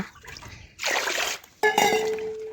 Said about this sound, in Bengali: আবারও একবার জল দিয়ে আমি ধুয়ে নেব